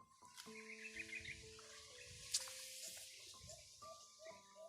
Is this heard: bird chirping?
yes